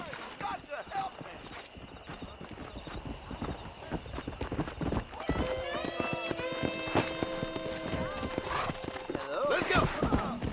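Horse hooves in Red Dead Redemption clip-clopping at a quick gallop, a steady rhythmic drumming near and clear, with a whinny and game music tones rising later, under shouted talk.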